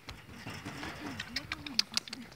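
Chickens in a Carpathian village farmyard give a few short, sharp clucks and chirps close by, over a low murmur of background voices.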